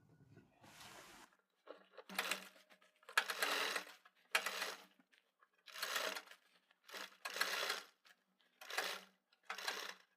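A sewing machine stitches a kurti collar along a marked line. It runs in about eight short, separate bursts of mechanical whirring with brief silent pauses between them, close and clear.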